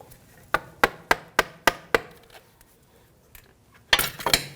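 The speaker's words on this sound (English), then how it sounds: "Just give it a tap with a hammer." A hammer taps a metal clamp on a tie rod boot of a 2001-2009 Volvo S60: six sharp, evenly spaced metallic strikes, a pause, then a quick flurry of rattling hits, close and alone.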